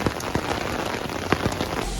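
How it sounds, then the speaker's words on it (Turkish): Rain falling in Aydın, Turkey: a steady, dense patter of raindrops on surfaces with scattered sharper drips close by, continuous throughout and with no voices. "Aydın yağmuru böyle oluyor işte."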